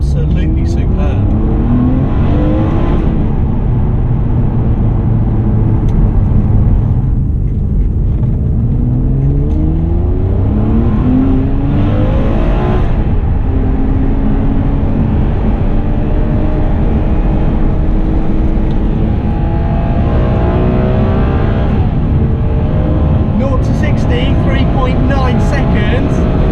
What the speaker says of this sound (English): Even as a passenger I can feel the acceleration and the responsiveness of the engine is absolutely superb.